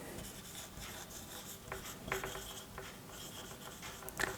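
Pen or pencil writing the work-done equation by hand on paper, a quiet steady scratching with a few sharper strokes, close and alone without talk.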